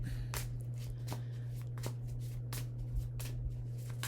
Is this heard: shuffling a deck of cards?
yes